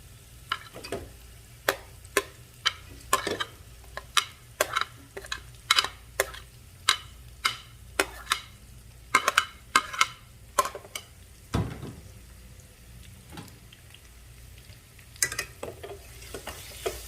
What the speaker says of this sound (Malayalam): ഇത് സവാള ഇട്ടിട്ട് നമുക്ക് നന്നായിട്ട് ഇളക്കിക്കണം